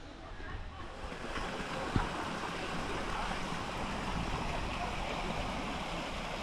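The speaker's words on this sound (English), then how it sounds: "quite a bit of water coming up just by the flow as it goes over the rocks down the pool" Steady broadband rush of water flowing over rocks into a pool at Edith Falls, continuous and fairly loud, with a single sharp knock near the start; no clear talk over it.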